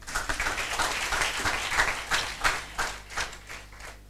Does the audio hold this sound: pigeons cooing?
no